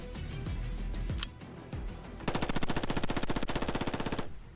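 A gun fires a long, fast burst, emptying a full magazine in a steady rapid string of loud, close shots, with a few separate sounds before it.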